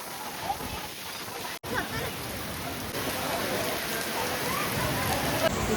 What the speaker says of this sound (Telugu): గైస్ ఫుల్ వర్షం వండర్లాలో.